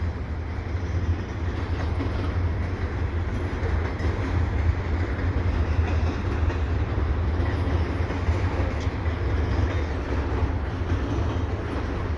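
A CPKC westbound freight train led by a KCS Southern Belle AC44 locomotive rolls past at Dorval, a steady heavy rumble of wheels and cars holding constant and fairly close with no break.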